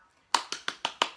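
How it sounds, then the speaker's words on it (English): Five crisp hand claps in a steady, quick rhythm during a virtual children's circle time. They are close and clear against near silence. "10 little fingers to clap"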